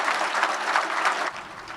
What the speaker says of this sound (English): the governor also spoke at the event and got a big round of applause.